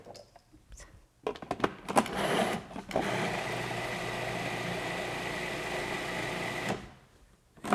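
A blender whizzes vegan lemon blueberry cheesecake filling, starting after a few clicks and knocks, then running in one loud, steady whir for about five seconds before cutting off, with no speech over it.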